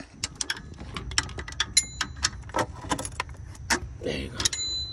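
Metallic ratcheting clicks and clinks come in a quick irregular series as a wrench works a bolt on a Toyota 4Runner 4.0 alternator, close up with light jangling between strokes.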